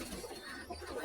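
A newly bought Rampuri pigeon gives a soft, faint coo, heard briefly and alone against quiet background noise.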